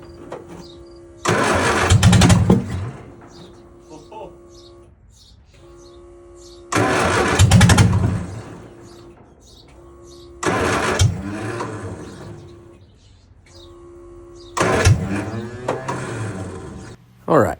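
A 1977 MG Midget that has just been fitted with an electric fuel pump cranks and fires up four times in a row. Each time it runs briefly and roughly and does not quite settle into an idle, with someone talking between the starts.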